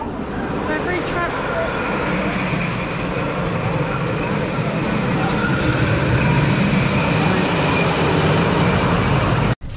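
Riders on the Thunder Coaster, a wooden roller coaster, hear a loud continuous rattling roar of the train running over the track, with voices mixed in, ending abruptly.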